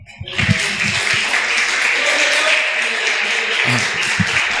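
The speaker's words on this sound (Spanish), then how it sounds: "Dese un aplauso" A church congregation breaks into sustained applause, a dense hiss of clapping lasting about three seconds, with a voice talking just before it starts and again as it fades.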